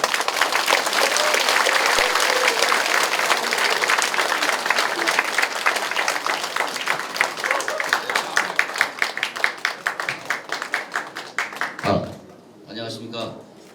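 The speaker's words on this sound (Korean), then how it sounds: "여러분, 우리의 함은경 후보를 뜨거운 박수로 불러주시죠" Warm crowd applause greets a parliamentary candidate at the opening of a campaign office in Mapo, dense clapping that thins into scattered individual claps before a voice and faint music come in near the end.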